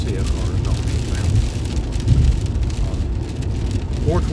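Heavy rain pours down steadily around a moving vehicle on a highway, a dense hiss of drops drumming on the surface with low traffic rumble underneath and a voice talking now and then.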